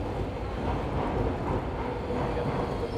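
A DLR light-rail train arriving in London rumbles steadily nearby with a broad, dense roar of wheels and motors, continuous throughout without voices.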